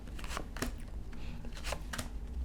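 Tarot cards shuffled by hand nearby, a few soft riffling bursts over a quiet background.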